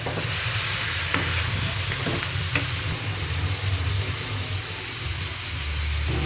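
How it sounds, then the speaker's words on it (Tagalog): Chayote pieces are stirred into a simmering pot of chicken tinola, with a steady sizzling bubble under a few clinking, scraping utensil strokes against the pot, close and continuous, with no voices. "lalagay na po natin yung ating gulay na sayote"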